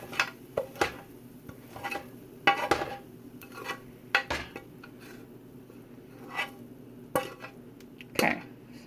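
Food being stirred in a frying pan for Italian-style KD, with repeated sharp clinks and scrapes of a utensil against the pan in an uneven rhythm, close and fairly quiet.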